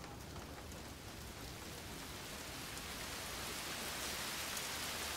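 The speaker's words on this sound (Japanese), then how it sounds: "Oh, llueve más épico todavía." Steady rain falls in the video game Like a Dragon: Ishin, a dense, even hiss of drops on surfaces that runs unbroken throughout with no voices.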